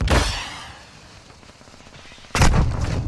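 Gunfire in a tactical shooter video game: a loud burst of shots opens, fades into a quieter stretch of distant rumble, then another loud close burst near the end.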